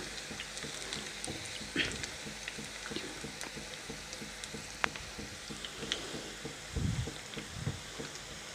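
Masala-coated peanuts frying in a pan over a low flame, giving a soft, steady sizzle with scattered light crackles and occasional stirring scrapes, quiet and close.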